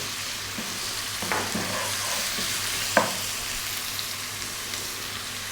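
Fresh chilies sizzle in a pan with ginger garlic paste for Indian yellow dal, giving a steady close frying hiss broken by a few light stirring clicks and scrapes.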